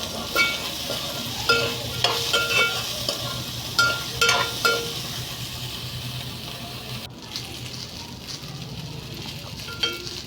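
Meal maker soy chunks go into a pan and are stirred, with a run of sharp clattering scrapes and spoon knocks over a low sizzle, then a quieter stretch with a few more stirs, close and without speech.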